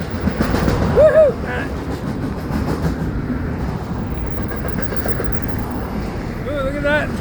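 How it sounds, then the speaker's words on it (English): A diesel train rolls by outdoors with a continuous low rumble and rail noise, heard under passing automobile traffic, with a short squeal near the start and another near the end. "the automobile traffic might drown out the sound of the train anyway"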